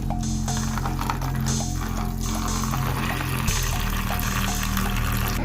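Water pours steadily over smoked dried buffalo meat in a container for soaking, a continuous splashing, filling sound that runs throughout at close range.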